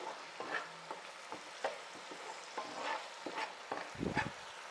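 Spoon stirring spices and oil frying in a pan for chicken dry fry, with repeated scraping strokes at an uneven rhythm over a soft, steady sizzle, close and moderately quiet.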